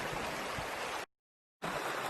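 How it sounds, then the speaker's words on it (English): Water runs steadily in a stream through a gill, a broad close rushing wash that cuts out for a moment and then returns at the same strength. "Here's the water."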